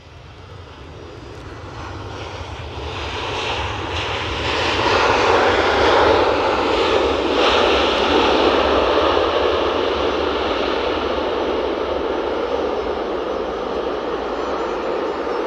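A Ryanair airliner inbound from Dublin lands at Edinburgh Airport on a windy day, its engine roar swelling from a distant rumble to a loud broad rush that holds steady without any voices.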